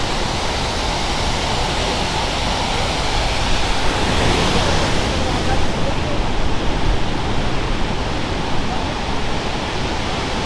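The Saraswati river at Mana village near Badrinath roars loudly and steadily, a dense, unbroken rush of fast water close by with no pauses.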